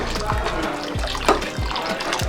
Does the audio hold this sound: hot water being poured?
yes